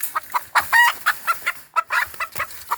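Several chickens cluck and squawk in quick, irregular bursts close by, with no talking over them.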